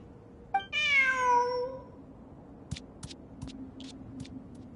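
A single drawn-out cat meow in the video game Genshin Impact, clear and close, followed by a few soft clicks and taps against a faint background hum.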